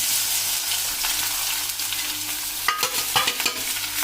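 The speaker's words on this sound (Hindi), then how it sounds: "अब मैं इसमें ज़रा लहसुन डाल देती हूँ कटे हुए, और ये प्याज डाल देती हूँ" Chopped garlic and onion sizzle in hot oil, a steady close frying hiss with occasional stirring scrapes and clinks of a utensil toward the end.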